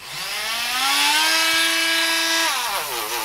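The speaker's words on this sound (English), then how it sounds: "I've got this, which is my Dremel type grinder, and on the end of it I've got a felt pad." Dremel-type rotary grinder fitted with a felt polishing pad, a loud high whine that spins up, holds steady for a couple of seconds, then drops in pitch as it slows, with no talk.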